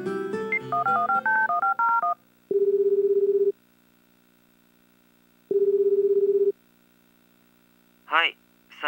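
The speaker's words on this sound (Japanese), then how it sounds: "佐伯くんに電話しよう。" Telephone dialing sequence from the dating sim Tokimeki Memorial Girl's Side 2nd Kiss: a rapid run of keypad tones, then two long steady ringback beeps with a pause between, and a brief chime at the end.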